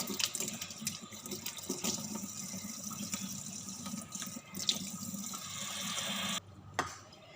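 Running water from a kitchen sink tap rinses food being cleaned, a steady close splashing stream that continues for several seconds, briefly cuts out near the end, then resumes with a short burst.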